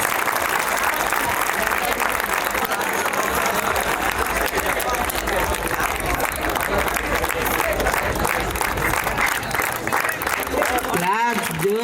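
Sustained, loud applause from a crowd at a hostel farewell celebration in Kadapa, thick clapping running steadily for about twelve seconds with crowd voices beneath it and a brief sharp sound near the end.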